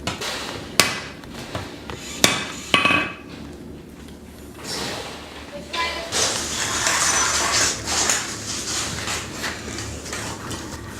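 A hammer strikes a hatchet head on an anvil during forging: a few sharp, ringing metallic blows stand out early, followed by softer clattering and shop noise, close and alone without talk.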